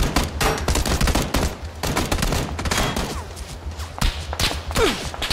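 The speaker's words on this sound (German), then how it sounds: "Wir werden beschossen." Rapid bursts of video game gunfire crackle in dense volleys mixed with whip-like shots and thuds, loud and continuous throughout, with no talk.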